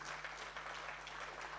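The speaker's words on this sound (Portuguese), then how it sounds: "dá um forte aplauso para o Senhor Jesus Cristo" Applause from a church congregation during a sermon, a faint but steady patter of many hands clapping, continuous and somewhat distant, with no voices over it.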